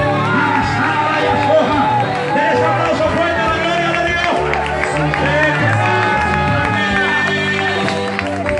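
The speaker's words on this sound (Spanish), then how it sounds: "Un aplauso fuerte al Señor." A church congregation in San Miguel, El Salvador, claps and cheers loudly with whoops and shouts, a thick, continuous crowd roar with voices calling out throughout.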